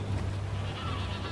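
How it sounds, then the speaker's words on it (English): Flamingos call in Assassin's Creed IV Black Flag, a brief goose-like honking chorus over a steady low hum and broad background noise. "Oh, the flamingos! Look at the flamingos!"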